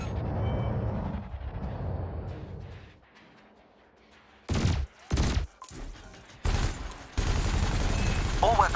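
Ship weapons firing at canisters in the Elite Dangerous video game: several loud, abrupt blasts in short bursts with gaps between them, over an engine hum and some synthetic electronic tones.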